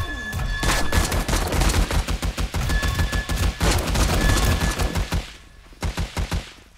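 Rapid bursts of automatic gunfire from the video game 7 Days to Die crackle loudly and continuously, sharp shot after shot with a brief pause near the end before a few more volleys.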